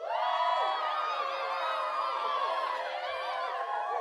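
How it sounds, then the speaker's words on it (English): Cheering and whooping from a crowd at a live show, a steady wash of voices and calls at moderate level with little clear clapping audible. "Can we give her an applause?"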